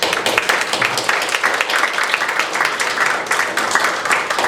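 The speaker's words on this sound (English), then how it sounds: "let's just give them an applause." Audience applause at a kite history talk, a dense wash of many hands clapping steadily and fairly close for several seconds, with no voices over it.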